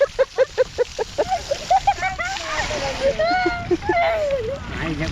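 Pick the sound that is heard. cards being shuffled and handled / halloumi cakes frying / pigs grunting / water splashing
water splashing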